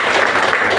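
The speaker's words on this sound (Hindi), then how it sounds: "इसलिए जोरदार तालियां हमारे अपने" A brief burst of loud, dense clapping from a crowd at a business success-sharing meeting, steady throughout with no speech over it.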